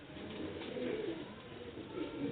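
Pigeons kept for sale in Sialkot coo softly and repeatedly, low, rolling calls over a faint background hum with no talking.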